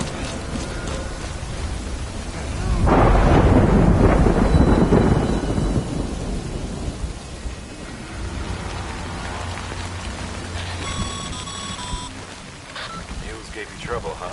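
Heavy rain pours in Death Stranding, with a loud thunder rumble surging near the start before easing into steady downpour, and a voice speaking over the storm.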